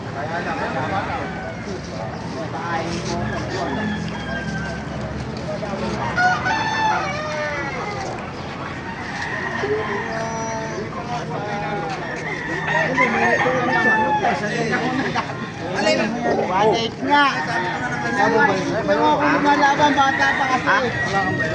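A young rooster, about five months old, crows repeatedly amid other chickens at a market in Baliuag, heard under steady conversation from people nearby.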